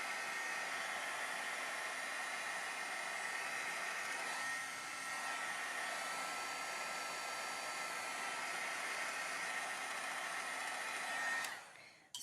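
A hair dryer blows steadily on wet watercolor paint, a loud continuous whoosh for most of the stretch before it cuts off near the end.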